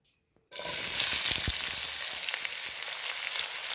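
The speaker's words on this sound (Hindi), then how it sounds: "घी गरम हो गया, अब हम इसमें डाल देंगे प्याज" Onions drop into hot ghee in a kadai, bursting into a loud, steady sizzle after a moment of silence and continuing as a dense frying hiss with small crackles.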